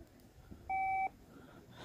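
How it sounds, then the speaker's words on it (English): A Rutus Alter 71 metal detector gives a single clean electronic beep, lasting about a third of a second, as it switches off. The beep sounds alone over quiet background hiss. "Now we'll turn the detector off now."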